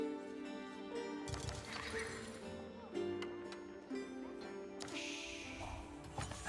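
Horse whinnies and clip-clopping hooves from horse archers in a medieval strategy video game, several neighs sounding over a busy battle mix with steady background noise.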